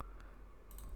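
Soft computer keyboard keys click for a Ctrl+C copy shortcut in a spreadsheet, two or three faint, quick taps close together in a quiet room.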